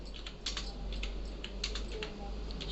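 Rapid keystrokes on a computer keyboard, a steady run of light clicks at close range with no talking over them.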